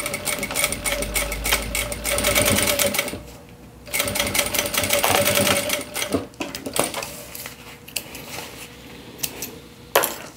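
Sewing machine stitching the fabric lining of a round children's waist pouch, running in loud steady bursts that pause and restart, with no talk over it.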